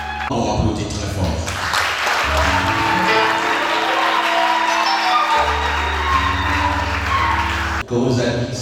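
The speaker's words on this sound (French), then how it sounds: "On applaudit très fort." Audience at a church book dedication applauding loudly, a dense sustained wash of clapping with music or tones sounding underneath, ending abruptly.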